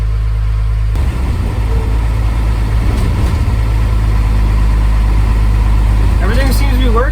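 A repaired truck with a Cummins diesel engine runs steadily on a test drive, giving a continuous low, loud rumble from start to finish, with a brief higher whine toward the end.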